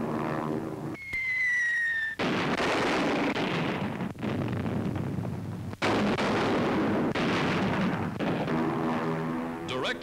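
Bombs dropped from aircraft exploding on a full-size target ship replica, a series of heavy, booming blasts with long rumbling decays, preceded by a brief descending whistle, loud and free of any talk.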